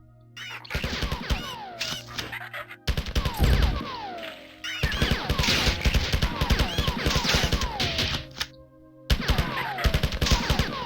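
Rapid, loud bursts of AR-75 automatic rifle fire in the classic game Marathon, repeated volleys with descending whizzing effects and brief pauses between them.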